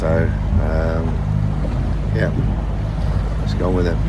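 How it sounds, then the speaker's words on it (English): Sailboat engine drones low and constantly throughout at sea between St Martin and Bermuda, with wind and water noise mixed in as someone speaks over it in short phrases. "I felt a bit guilty about putting the engine on when they'd just gone for a kip"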